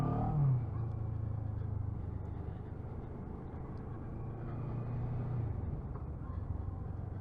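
A CF Moto 650NK motorcycle rolls through town, its engine giving a steady low drone that stays moderately quiet with a brief rise near the start, and no voices over it.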